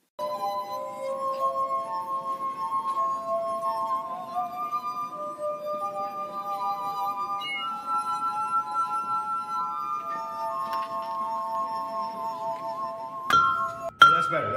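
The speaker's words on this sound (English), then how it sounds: "when you hold it and you flick it with your finger, ding it, or you do that circle around the rim of it to create that noise" A drinking glass rings with clear, sustained tones that step from pitch to pitch, ending in a sharp clink and a brief burst of ringing.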